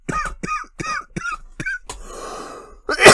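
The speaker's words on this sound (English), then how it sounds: "you gotta supercut all my coughs together into one disgusting cough for the intro" A man coughs repeatedly on a podcast: about six sharp, close bursts in quick succession, then a breathy exhale and one final loud cough.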